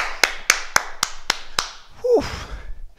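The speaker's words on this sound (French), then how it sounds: "on s'applaudit très fort" Six sharp, evenly spaced claps ring out as an adult fitness class applauds itself, each crisp and close, followed by a brief breathy exhale and rustling movement.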